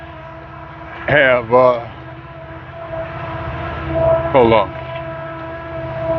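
A train engine rolls by with a low, steady rumble and a drawn-out tonal horn that swells faintly in the middle. Someone talks briefly over it.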